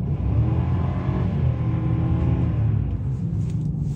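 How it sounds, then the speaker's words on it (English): An Infiniti engine revs and accelerates while driving in snow, a loud, steady rumbling drone that stays strong throughout and fades slightly at the end. "Hit the gas, pedal to the metal."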